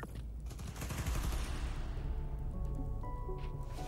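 Sustained gunfire in the Spider-Man: Miles Morales game, a dense rapid burst of overlapping shots that rattles on loudly for the whole stretch, with a tonal electronic hum coming in toward the end.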